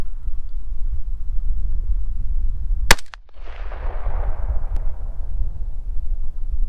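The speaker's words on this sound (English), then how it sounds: "that's 3 shots downrange" A rifle fires a single sharp, loud gunshot downrange outdoors, the crack followed by a rolling echo that decays over a couple of seconds against a low steady background rumble.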